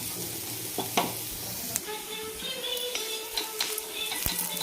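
Onion roasting in a pan for a festive puran poli meal, giving a steady close sizzle broken by repeated scraping stir strokes, with no voices.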